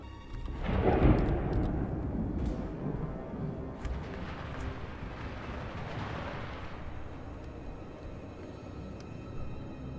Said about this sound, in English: Our pistol cavalry opens fire and starts the retreat.